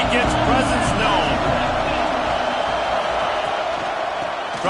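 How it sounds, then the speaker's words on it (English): A stadium crowd roars continuously in an NCAA college football video game, loud and steady throughout with a commentator's voice over it. "This crowd ready to make its presence known"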